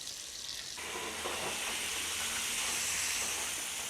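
Fried chicken sizzles in a covered pan with a steady, dense hiss of frying oil and steam that grows louder partway through and continues evenly.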